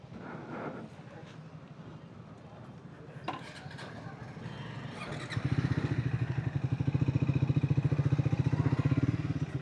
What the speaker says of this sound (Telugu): సో నా బైక్ కన్నా కొంచెం సౌండ్ తక్కువ ఉంది అండ్ హైట్ చాలా ఎక్కువ ఉన్నట్టు అనిపిస్తుంది